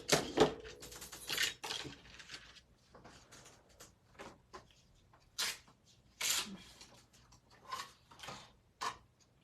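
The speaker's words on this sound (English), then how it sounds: "I'm just gonna cut that out real quick with the Santa's train dies" A die-cutting machine presses Santa's train dies through paper, producing irregular close clunks, rolling and grinding bursts with quiet gaps between them, and no talking in the clip.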